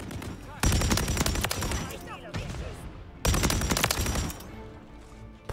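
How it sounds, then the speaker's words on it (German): A light machine gun fires in the video game Modern Warfare 3. Two long, rapid bursts rattle out with a short pause between them, fairly loud, with tails trailing off after each. "es ist einfach ein leichtes Maschinengewehr, nur dass es halt komplett insane ist"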